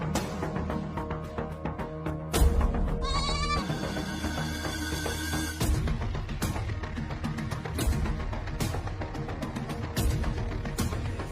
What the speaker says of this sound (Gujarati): મને મારી બકરીનો અવાજ તારા કબાટ માંથી આવ્યો